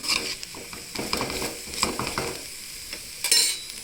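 Okra frying in a pan is stirred with a spoon, a steady sizzle under repeated scraping strokes against the pan, close and fairly loud with no talking.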